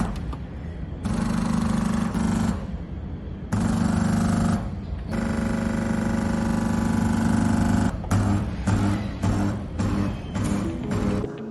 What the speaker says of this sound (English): this is the modes of vibration for sieve shaker